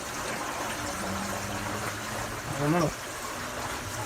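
Water splashes and surges inside a Clack retention tank on a well system, a continuous close churning flow with a brief louder gush, while someone talks over it.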